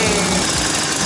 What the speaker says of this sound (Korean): 저도 점프 스타터로는 시동을 처음 걸어봐요.